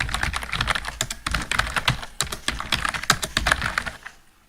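Rapid, uneven keystrokes on a computer keyboard while text is entered in ArtCAM software, a close, steady clatter of clicks lasting several seconds with no voices.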